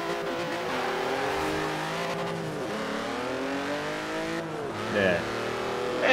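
Engine roar of a BMW i8 and a Porsche Boxster racing in Forza Horizon 4, a loud steady drone that climbs and drops through gear shifts, with voices talking over it.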